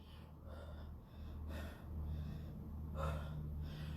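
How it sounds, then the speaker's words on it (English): Heavy, rapid breathing of a person recovering between bodyweight exercises like hollow holds, with audible gasping inhales and exhales repeating steadily over a low hum, close to the microphone. "I know my heart rate and my breathing is really elevated right now"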